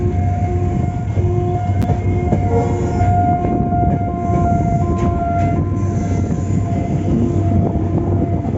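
Sri Lankan passenger train on the line to Jaffna, heard loud and close from on board: a steady rumble and rattle of wheels and carriages, with faint sustained tones running through it.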